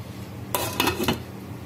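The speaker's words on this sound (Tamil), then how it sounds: "இப்போ நாம் ஒரு மூடி எடுத்து மூடி வச்சிடலாம்." A metal lid set down on a cooking pot of Kerala-style chicken roast, a short cluster of close clanks and rattles over quiet background, with no talking.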